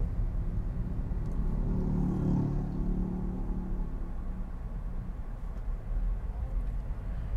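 Hyundai Grand i10 2014 automatic hatchback driving with its gearbox in manual mode, a steady low engine rumble and road drone inside the cabin that swells slightly midway, with no talk.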